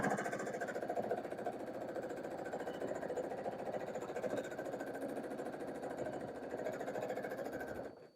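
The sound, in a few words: home sewing machine stitching during free motion quilting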